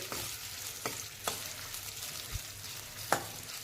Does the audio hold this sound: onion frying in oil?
yes